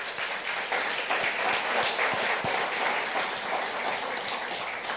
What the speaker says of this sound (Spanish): Dele un aplauso, Señor, por favor.